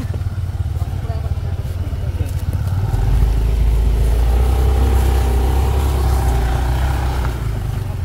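A scooter engine runs nearby with a steady low drone that swells louder midway as traffic noise surrounds it and people talk over it.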